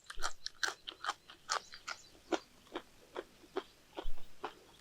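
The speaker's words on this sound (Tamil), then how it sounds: "இப்படி கடிச்சு சாப்பிட்டே இருக்கணும்." A raw pain-relieving vegetable is bitten and chewed up close, with a steady run of crisp, crunchy bites repeating about every third of a second and no voices.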